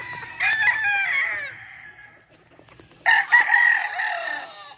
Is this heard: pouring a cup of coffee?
no